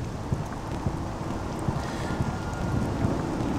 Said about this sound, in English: Rain in the Ashlands.